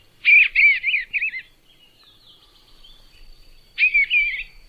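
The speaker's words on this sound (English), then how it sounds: "Kind of a beautiful sounding bird" An unidentified songbird sings in two clear bursts of bright, warbling whistled phrases separated by a short pause, heard alone against a quiet background.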